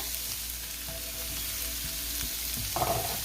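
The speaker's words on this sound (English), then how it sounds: "I'm adding in some ham" Leftover Easter ham fries in a pan with a steady, close sizzle, with a few faint clinks and a louder burst of sizzling near the end.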